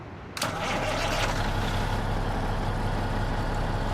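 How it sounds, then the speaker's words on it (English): A Peterbilt 389 truck engine in Euro Truck Simulator 2 cranks and catches after a brief silence, then settles into a loud, steady, deep idle that runs to the end. "let's turn the music off and let's hear what this particular engine sounds like"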